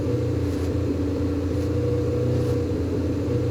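Jordan 191 Formula 1 car in the F1 2020 video game, its engine giving a steady, loud droning hum held at a fairly constant pitch without voices.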